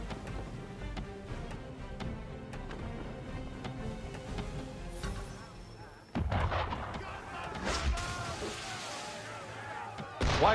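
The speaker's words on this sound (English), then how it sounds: "Why is he shooting at us?" Gunfire and cannon blasts from a ship in the Assassin's Creed 3 video game: dull booms and shots over ambient game sound, with a heavy burst of impacts erupting midway and continuing.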